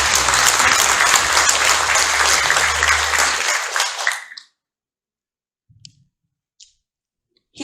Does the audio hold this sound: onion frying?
no